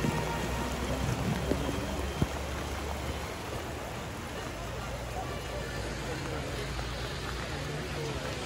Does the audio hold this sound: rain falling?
yes